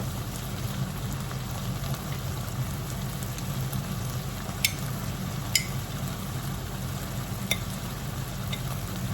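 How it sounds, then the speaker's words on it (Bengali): Rain falls in a steady, even hiss in the UK, with a few sharper drips tapping out now and then. "বৃষ্টিটা মানে থামছে"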